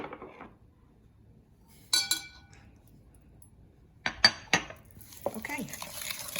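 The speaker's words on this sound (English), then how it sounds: "So firstly, I'm going to mix the spread and the sugar together." A utensil works room-temperature spread and sugar together in a bowl for cookies, giving a few sharp clinks and scrapes against the bowl separated by quiet pauses, then a softer stretch of mixing at the end.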